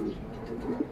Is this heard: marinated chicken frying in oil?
no